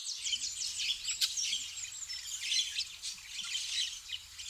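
A bird in Adina forest, Malda, gives repeated bright chirps and twittering notes, moderately close and fairly faint. The calls come in loose bursts with no voices, over a quiet outdoor background.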